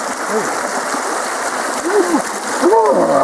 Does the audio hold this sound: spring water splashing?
yes